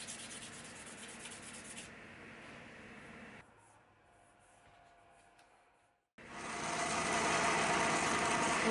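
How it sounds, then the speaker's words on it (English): Steady abrasive sanding of a 5160 steel knife blade with a hard backer, across the spine, rasps on and off, with a quieter stretch in the middle and then louder, harsher grinding at the end. "using a hard backer and sanding across the spine on this one"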